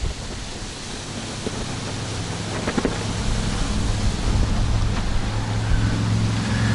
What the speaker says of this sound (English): The house is blocking most of this wind right now.